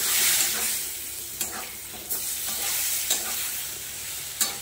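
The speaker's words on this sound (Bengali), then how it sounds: "এবার শাপলা দিয়ে কষে নেব।" Water lily stems being stir-fried with poppy seed paste in a pan, with a steady sizzle and the spatula scraping through it in periodic sharp strokes about once a second, close and loud.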